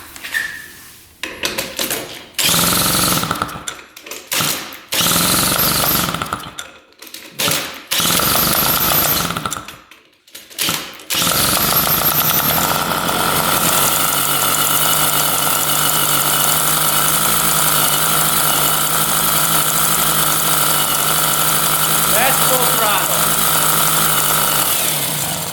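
A small gas engine with new O-rings and a rich fuel mixture runs loud and close, sputtering and cutting out in bursts, then revs up to a sustained full-throttle roar before settling toward idle.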